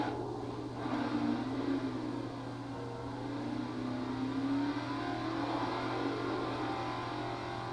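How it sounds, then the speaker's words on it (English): In the Crackdown video game, a car engine drones at a steady mid-pitched whir and hum, slowly rising and falling as it drives, continuous and fairly loud with no talk. "I'm going to go ahead and bring that car there."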